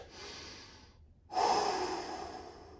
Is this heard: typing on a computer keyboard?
no